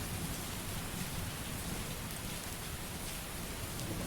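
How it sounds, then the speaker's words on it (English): Steady heavy rain ambience with distant rumbling thunder, a dense continuous hiss of drops on surfaces that stays even and fairly quiet from start to finish, with no voices. "That thunder and lightning might be a little bit too intense with the rain"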